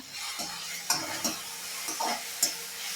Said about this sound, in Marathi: आता मी याला इथे परत असं तेलामध्ये परतवून घेणार आहे